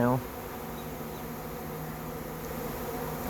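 A decent-sized honey bee swarm moving into a trap gives off a dense, steady buzz that holds at an even level throughout, with a short tonal sound at the very start.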